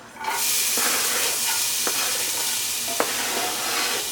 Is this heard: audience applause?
no